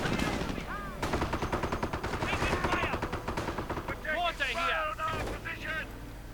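Sniper shots and bursts of gunfire in a real-time strategy war game battle, rapid loud volleys and repeated reports mixed with game effects and background rumble, with a commentator talking over parts of it.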